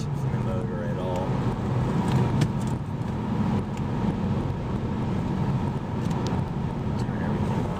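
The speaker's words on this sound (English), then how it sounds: "Smooth acceleration. No hesitation from the motor at all." 2007 Honda Civic accelerating, heard from inside the cabin as a steady engine hum mixed with road and wind noise, with a person talking over it.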